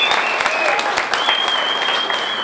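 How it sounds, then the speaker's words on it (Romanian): Applause from guests at a pigeon racing event dinner in Arad, honouring the special cooks, fills the clip with steady dense clapping, fairly close and loud, with a faint voice and a tone running over it. "aplauze"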